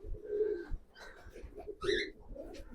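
Loft pigeons in West Bengal give repeated low, throaty coos, fairly close and alone, with a few rising calls mixed in and no talking.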